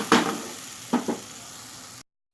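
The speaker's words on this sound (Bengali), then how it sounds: "এবার আমি আদা, কাঁচা লঙ্কা বাটাটা দিয়ে দেব। দিয়ে এটা একটু কষিয়ে নেব।" Ginger and green chili paste hitting a hot pan for a white paneer dish, three short bursts of sizzling and stirring, the first strongest, then quiet before cutting out.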